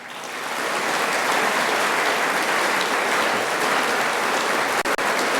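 A lecture audience at a presidential library bursts into applause that swells within the first second into sustained, dense clapping, loud and continuous throughout.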